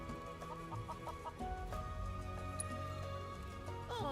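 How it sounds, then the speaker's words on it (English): A flock of chickens clucks in the Final Fantasy 7 Rebirth video game, with quick repeated clucks over a steady background hum and a brief louder squawk near the end. "I can't keep up with a flock of chickens."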